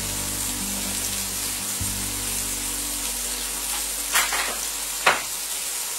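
Onglet steak searing untouched in a hot frying pan, a continuous close crackling sizzle with two sharper pops near the end, no voices.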